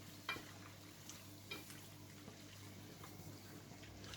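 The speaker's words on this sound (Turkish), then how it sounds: "Şimdi makarnamızı da içerisine ilave edeceğiz. Şöyle güzelce de karıştırıyoruz." Fettuccine pasta is stirred into bubbling Alfredo sauce in a pan, making a soft, wet, continuous sizzle with faint clicks of a spoon, quiet and close, with no voices.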